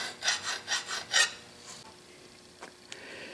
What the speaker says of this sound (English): I think I'll take a file and remove the burr